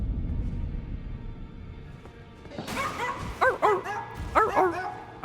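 Wolves from the Elden Ring video game barking and yipping in a run of sharp, loud calls, after a stretch of low ambient rumble, with several quick barks clustered near the end.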